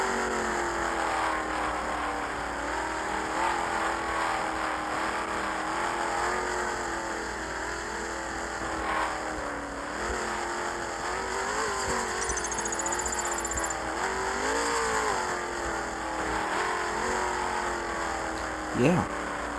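Taxi engine in Taxi Boss straining and revving as the cab climbs over a military obstacle course, a steady mid-pitched drone with rising and falling revs, moderate in level under a talking voice.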